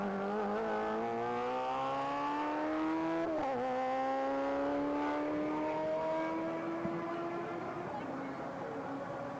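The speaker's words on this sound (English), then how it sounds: "now you can listen to this 1300 overhead cab engine being revved within an inch of its life" A 1300 overhead-cam race car engine revs hard in a hillclimb event, one sustained high-pitched scream climbing steadily, dipping briefly mid-way, then rising again, loud and close throughout.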